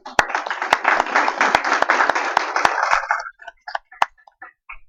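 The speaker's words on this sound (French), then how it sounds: "S'il vous plaît, vous pouvez l'applaudir." Audience at a French conference on the Armenian genocide applauding a Marseille lawyer, dense clapping for about three seconds with sharp individual claps standing out, then thinning to scattered last claps.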